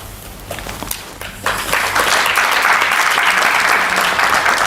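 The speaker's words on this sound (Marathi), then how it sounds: "त्यांनी हळूहळू टाळ्या वाजवले" An audience at a public lecture and question session breaks into applause after a brief lull, the clapping swelling and holding as a dense, loud, sustained patter with no voices over it.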